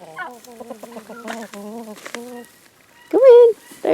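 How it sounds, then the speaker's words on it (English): Backyard chickens cluck in quick, rhythmic bursts close by, followed by a louder drawn-out squawk and a final sharp call. "we've got chickens here that are wanting to go in, and we got chickens in there that are wanting to go out"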